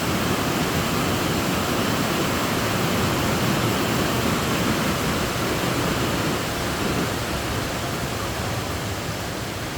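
Heavy water from a waterfall thunders inside Hwanseon cave after rain, a dense, steady roar filling the space with constant broadband rush and no break.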